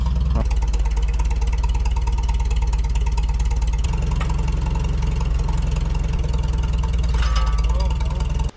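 An old winch driven by a tractor PTO runs steadily, a loud, close engine drone with a constant low rumble and mechanical rattle throughout, cutting off at the very end.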